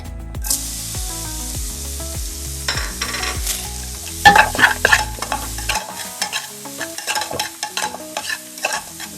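Onion added to hot melted butter in a pan for creamy pasta, sizzling and frying while a utensil stirs with scraping and clinking strokes, the bubbling hiss building after the onion goes in.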